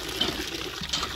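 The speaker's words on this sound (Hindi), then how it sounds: "ऊपर आई हूँ पानी भरने के लिए" Water pours steadily into a bucket in a rural desert mud house, a soft continuous gushing and splashing, fairly quiet and heard alone without talk.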